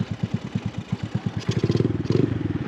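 A Honda Navi motorcycle engine with an upgraded carburetor runs close by, a loud rapid chugging idle that speeds up into quicker pulses as it revs.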